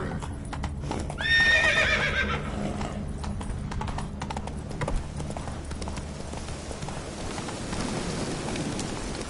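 Horse hooves clip-clop at a steady gallop in The Witcher 3, with a sharp whinny near the start, all under soft rain and ambient game sound.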